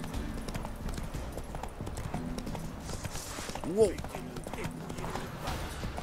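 In The Witcher 3, a horse's hooves gallop in a steady clip-clop rhythm while someone talks over the game sound and gives one short exclamation.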